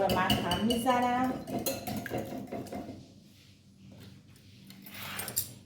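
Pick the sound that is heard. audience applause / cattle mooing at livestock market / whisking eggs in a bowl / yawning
whisking eggs in a bowl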